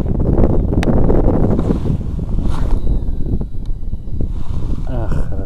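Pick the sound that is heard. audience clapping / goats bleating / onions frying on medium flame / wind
wind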